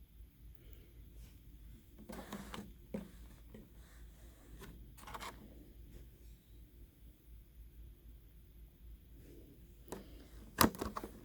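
A package of salty American candies is opened with some force, giving intermittent crinkling and rustling bursts with a sharp snap near the end, fairly close against a quiet room.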